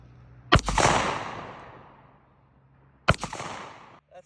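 Two sharp, loud gunshots from a Ruger Redhawk .357 Magnum eight-shot revolver, spaced about two and a half seconds apart, each with a long echoing decay outdoors.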